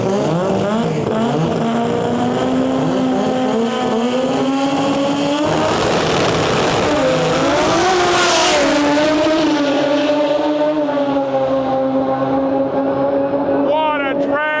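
Drag race cars at World Cup Finals eliminations roar down the strip, their engine pitch climbing steadily through each gear, loud and continuous beneath an excited commentator talking throughout.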